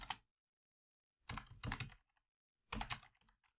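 Fast clusters of keystrokes on a computer keyboard while writing machine learning code, three short bursts of rapid clicks broken by silent gaps, close and alone.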